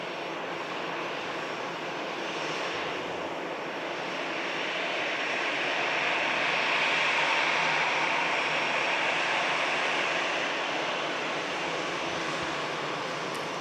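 An EasyJet airliner arriving at Manchester Airport from Palma produces a broad, steady jet roar that swells to a peak midway and then eases slightly, heard at a distance with no voices.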